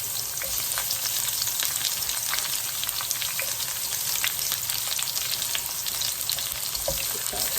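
Sliced onion fries in a pan as the base for a spicy beef curry, a loud, dense, steady sizzle with faint crackles and occasional light stirring taps, heard up close with no talk.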